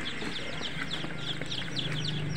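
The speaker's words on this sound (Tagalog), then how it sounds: "Ayan po yung ating mga sisiw na napisa sa loob po ng ating carton incubator" Newly hatched chicks peep and cheep continuously inside a carton incubator, a dense, steady chorus of high chirps close up with a low hum underneath and no talking.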